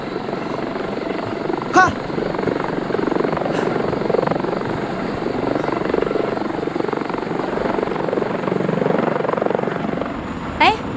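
A helicopter flies overhead, its loud, steady rotor roar filling the whole scene at close range, with a short spoken word heard briefly over it.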